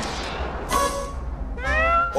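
A cat meows twice, loud and close, with a short pause between two rising, drawn-out cries.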